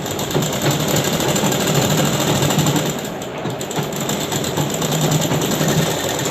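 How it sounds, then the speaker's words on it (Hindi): A sewing machine stitches along the edge of a trouser pocket, giving a loud, continuous close-up mechanical whir and rattle that holds steady for several seconds with only a slight dip midway. "ये हमने सिलाई लगा ली है इस तरह से किनारे की"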